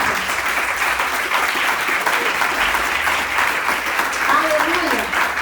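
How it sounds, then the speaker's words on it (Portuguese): A church congregation applauds steadily during a worship service, a loud, continuous wash of clapping with voices calling out underneath. "Você pode aplaudir ao Senhor por essa palavra?"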